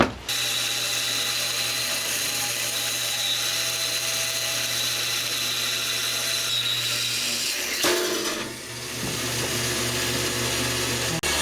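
A high-pitched power saw with a thin blade whines steadily and close, cutting through material with a brief dip and change in tone partway through; no talking.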